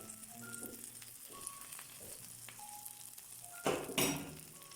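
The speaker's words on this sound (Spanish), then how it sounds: "Ahí suena el queso y ya se fundió" Cheese on a pizza sizzles in a frying pan with a soft, steady hiss, joined near the end by a couple of brief scraping clatters.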